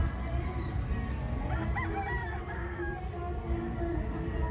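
Chickens cluck and a rooster crows amid a busy, noisy background at a gamefowl breeding farm, with the bird calls fairly faint and overlapping.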